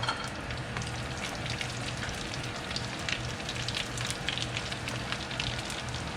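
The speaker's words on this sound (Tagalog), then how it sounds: "So, eto, mainit na yung mantika. So, ilalagay na natin yung ating chicharon." Pork skin chicharon frying in hot oil, a dense, continuous sizzle and crackle with scattered sharp pops, steady and close throughout with no talking.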